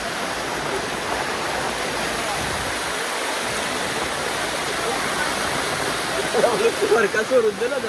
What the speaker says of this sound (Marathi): बघा पाणी बघा केवढं आले.